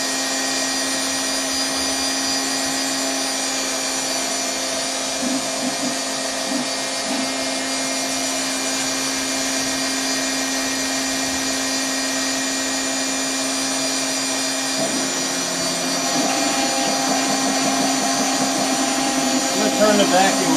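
A Phlatlab CNC machine cuts a workpiece with a loud, continuous mechanical drone and whine that holds steady throughout and grows slightly busier toward the end.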